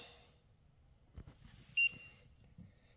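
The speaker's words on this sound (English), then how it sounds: "And we're still beeping." One sharp, loud electronic beep from a Pecron E3600LFP portable power station alarm sounds briefly amid quiet background, with a few soft knocks before and after.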